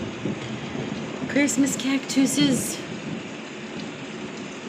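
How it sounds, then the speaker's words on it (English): Thunder rumbles faintly in the distance beneath a steady light hiss of rain, with a person speaking briefly over the storm. "Thunder sounds nice though."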